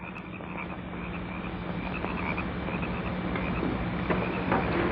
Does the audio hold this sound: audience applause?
no